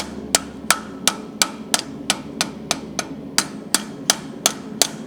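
Light, evenly spaced hammer strikes on hot metal on an anvil while blacksmithing leaves, about a dozen sharp clanks in a steady rhythm, close and clear with no talking.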